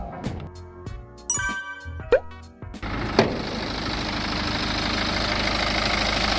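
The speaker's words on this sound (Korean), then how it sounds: "저희 엔진 상태 한번 보는 시간 갖도록 하겠습니다." A few clicks and chimes, then a BMW 520d diesel engine with about 33,900 km on it starts and settles into a steady, close idle rumble that continues to the end.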